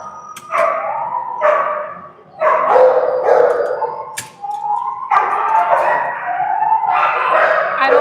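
A dog howls loudly and close in a series of long, wavering, rising and falling cries with short pauses between them, and no talking over them.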